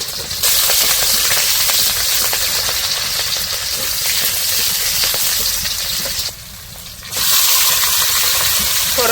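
Onions and green chillies fry in hot oil with a loud, dense sizzle that runs nearly the whole time, dipping briefly before surging back up, close by.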